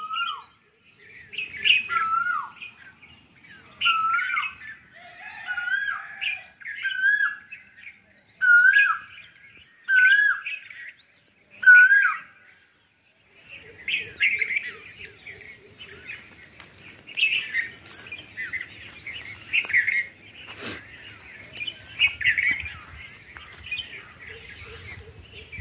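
Koel calls ring out in a village setting, about a dozen clear rising notes, fairly close and spaced a second or two apart. They give way to softer chirping and distant birdsong.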